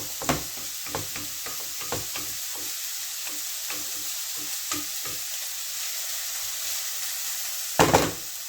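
Onions fry and brown in a hot pan, a steady close sizzle broken by scattered crackles and a louder burst of stirring near the end, with no voices.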